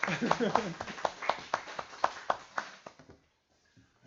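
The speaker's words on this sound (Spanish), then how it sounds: "un aplauso" A small audience applauds at the close of a talk in hot conditions, with steady, fairly sparse claps at an even rhythm that thin out and fade after about three seconds, voices murmuring beneath them.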